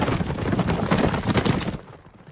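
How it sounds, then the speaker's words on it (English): Dense clattering of hooves clip-clopping close by, busy and overlapping for about two seconds, then dropping away. "Mitsuhide, Kiki, ready the horses."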